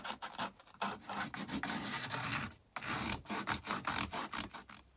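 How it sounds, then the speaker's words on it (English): Sandpaper rubs back and forth along the cut edges of a hole saw opening for caravan speakers, close and steady, with quick rasping strokes and a short pause midway. "Same again, just tidy the edges up, some sandpaper."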